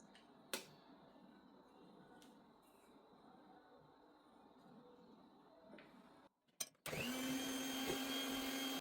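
An electric mixer beats cake batter as oil is poured in gradually. After a quiet stretch of faint kitchen clicks and rustles, the motor switches on abruptly and whirs loud and steady to the end.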